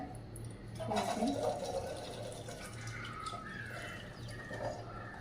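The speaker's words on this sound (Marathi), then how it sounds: "आता आपण ते एका चाळणीमध्ये ओतून घेऊया असे ओतून घ्यायचे" Boiled salted peanuts and their water pour into a strainer with a steady, close splashing and trickling that lasts the whole time, then tapers to dripping.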